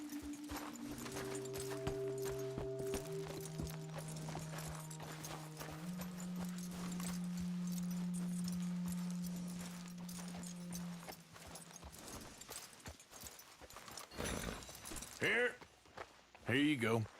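Horse hooves clip-clop in a steady walking rhythm in Red Dead Redemption 2, heard beneath sustained game music tones and spoken dialogue, ending with louder clustered steps.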